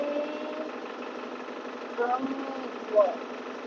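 A motor boat engine drones steadily on the Brahmaputra river near Guwahati, a constant mid-pitched hum with a couple of brief bumps, while a voice talks over it.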